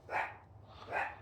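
Dog barking at a backyard chicken coop: two soft, fairly close barks about a second apart, with no one speaking.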